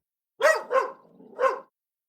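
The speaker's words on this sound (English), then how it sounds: "That's right. It's a dog." A dog gives three clear barks, two in quick succession then a third after a short pause, close and loud against silence.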